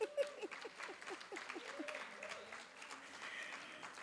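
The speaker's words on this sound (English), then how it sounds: "as they're clapping for themselves" Graduating medical assistant students applaud themselves at a graduation ceremony, a faint, scattered clapping that tapers off over a few seconds, with some voices mixed in.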